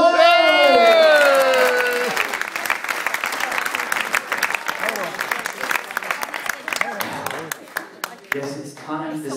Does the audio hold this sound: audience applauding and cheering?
yes